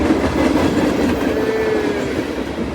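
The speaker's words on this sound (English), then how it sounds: "This is the fun train." A freight train led by NS locomotives 4885 and 4889 rolling past nearby, a loud continuous rumble with clickety-clack of wheels and a faint squeal of wheels on rails.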